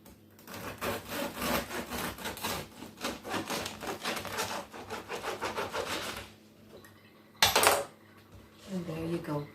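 A bread knife saws through a loaf of soda bread in steady, rhythmic back-and-forth strokes at close range, followed by a brief pause, a sharp clatter and a few softer scrapes.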